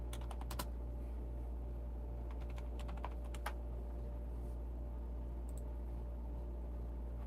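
Computer keyboard typing in short, quick bursts of faint clicks, separated by pauses, over a steady low electrical hum.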